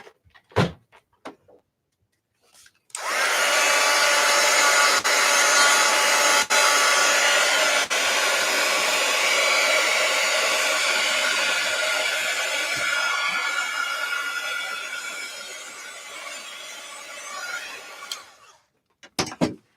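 A hair dryer blows steadily on an art journal page for about fifteen seconds, a loud, close, constant whoosh that starts abruptly and cuts off, with a few knocks and handling sounds before and after.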